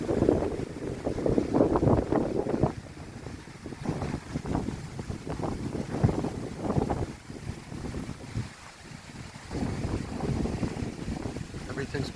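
Strong outdoor wind roars and buffets the microphone in uneven gusts over about twelve seconds, with flags on poles blowing hard in the gale.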